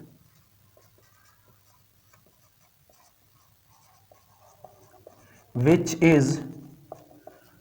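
Someone writes on a board during a biology lecture, making faint, sparse scratching ticks in a quiet room. Someone briefly speaks near the end.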